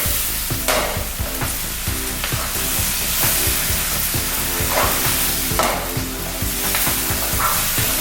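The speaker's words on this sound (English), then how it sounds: "Bring our rice cakes into the pan." Tteokbokki rice cakes sizzle in a pan coated with sauce, a steady loud frying hiss with repeated stirring and scraping clatter throughout, no voices.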